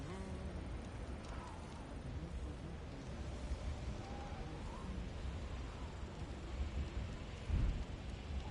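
Thunderstorm in the video game God of War Ragnarök: steady heavy rain with a low rolling thunder rumble and a louder thunder crack near the end.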